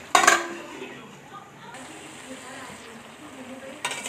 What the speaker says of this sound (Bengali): ঢাকা খুলে আবার একবার ভালো করে নেড়ে দিতে হবে।